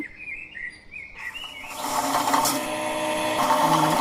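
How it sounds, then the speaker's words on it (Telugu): A wet grinder churns soaked moong dal with a steady whirring, rattling drone that starts up partway through and then runs loud and continuous, with a faint chirpy tone early on. "మనం ముందు గ్రైండర్ ఆన్ చేసుకున్న తర్వాత కొద్ది కొద్దిగా పెసర్లు అన్నది వేసుకుంటూ వాటర్ వేసుకోవాలి"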